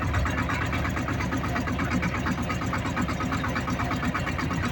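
A steady, loud engine drone under hydraulic load, with a rhythmic mechanical pulse, running continuously without pause.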